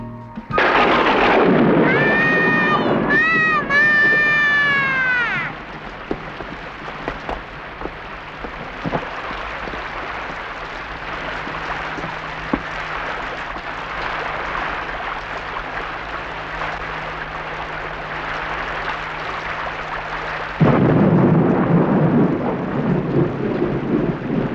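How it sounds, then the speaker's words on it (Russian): Heavy rain and a thunderstorm in a 1977 Little Red Riding Hood film: steady loud downpour throughout, swelling again near the end, with a rumble early on and a brief tonal musical phrase at the start. "Вот это дождь!"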